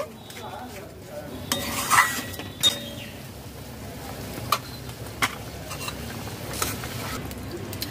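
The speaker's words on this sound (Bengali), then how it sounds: "ভালো করে নাড়াচাড়া করে মশলা মিশিয়ে নেব।" Spices being stirred in a pan for prawn malai curry, with scattered clinks and scrapes of a utensil against the metal over a low background sizzle, several louder knocks spaced through the stretch.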